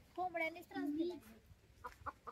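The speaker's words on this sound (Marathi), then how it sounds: "कोंबड्या का वराडते ते" Hens clucking near a cowshed at a rural home, a few drawn-out clucks followed by short quick ones, faint and close, with background noise.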